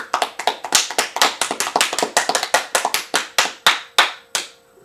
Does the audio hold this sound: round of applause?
yes